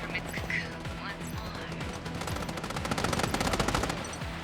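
Gunfire in the Strinova shooter game: rapid automatic bursts that start sparse, then build into dense, loud strings of shots over busy game sound.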